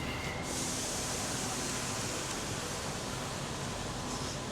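Steady broadband rumble and hiss inside a moving Sydney train, loud and continuous with no talking.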